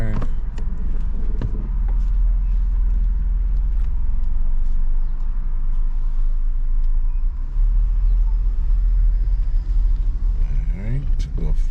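A car moves forward during a Florida driving test, its engine and road rumble steady and close throughout, with a person talking over it.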